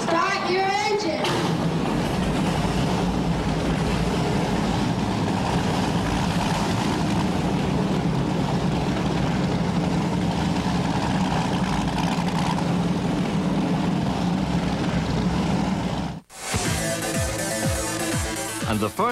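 Offshore powerboat racing engines roar loud and steady at a 1998 world championship race, a dense continuous drone that cuts off abruptly near the end before a voice speaks.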